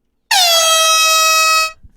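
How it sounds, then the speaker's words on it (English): A single loud, sustained air horn blast lasting over a second, cutting in abruptly from silence and then stopping. "Sound the air horns, Vic."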